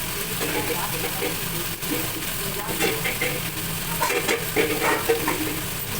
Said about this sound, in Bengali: ভাজাভুজি শুরু করে দিই,